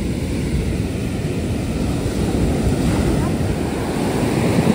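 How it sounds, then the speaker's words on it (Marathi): Sea waves at Tondavali beach near Malvan surge in a steady, loud wash of surf, mixed with gusty wind buffeting the microphone throughout, with no voices. "आणि रस्त्याच्या या बाजूला लागूनच अगदी हा समुद्र किनारा आहे."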